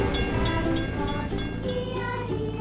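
Train rolling past a closed level crossing in a children's construction vehicle game, a steady rumbling with rhythmic clacking and a faint chiming tone, moderately loud.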